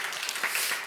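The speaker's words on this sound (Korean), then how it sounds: "우리 환영의 박수 우리 올려드리도록 하겠습니다." Brief burst of congregation applause at a Korean Presbyterian church Sunday service, welcoming a first-time visitor; dense steady clapping from many hands, fairly soft and a little distant, lasting under a second with no talk.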